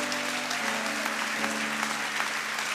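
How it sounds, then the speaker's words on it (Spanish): Congregation applause at an evangelical church service, a steady dense wash of clapping held throughout, with sustained musical tones underneath. "Vamos, fuerte el aplauso."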